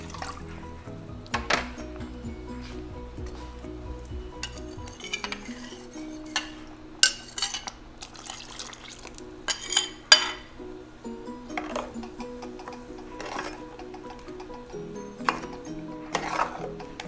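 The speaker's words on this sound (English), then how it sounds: "So I'm just going to rinse that and add it to the curry." Water poured and swished in a mixer jar, then tipped into a pot of lady's-finger (bhindi) curry, with soft clinks of utensils, stirring and small splashes close by, no talk.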